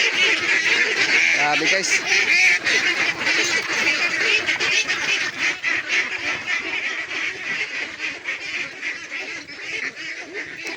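A flock of ducks in a pen quacks and honks continuously, loud and close, with overlapping rapid calls throughout. A person speaks briefly over them.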